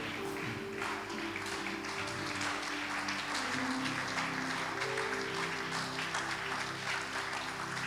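A church congregation bursts into sustained applause and cheering, a dense wash of clapping that holds steady and fairly loud for the whole stretch, with a sustained musical tone running underneath and no speech on top.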